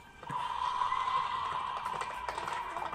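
Horse hooves clip-clop in a scene from The Walking Dead, a run of steady, moderately loud hoof beats over a low bed of background sound, with no talking.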